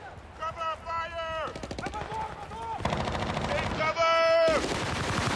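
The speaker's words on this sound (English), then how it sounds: "Machine gun!" Machine gun fire in Battlefield: Bad Company, a war shooter on Xbox 360: rapid rattling bursts of automatic gunfire, fairly close, mixed with shouted voices and tonal game sounds, growing denser toward the end.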